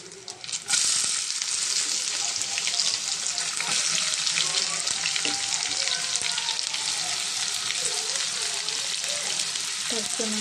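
Chopped onions hit hot oil with dried prawns and burst into loud, close frying, a dense steady sizzle with stirring scrapes running throughout.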